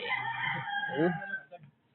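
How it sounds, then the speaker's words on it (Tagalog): A rooster among many chickens lets out one close crow lasting about a second and a half, ending in a brief trailing note, with no other sound around it. "Daming manok na yan."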